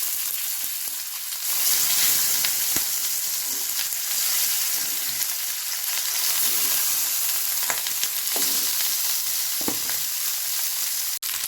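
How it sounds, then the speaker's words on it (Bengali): Fish frying one by one in hot oil in a wok, a loud continuous hiss and sizzle with occasional pops and spatters close by, no talk. "কড়াইয়ে তেল গরম হয়ে গেছে, এবার মাছগুলো একে একে আমি ভেজে নেব।"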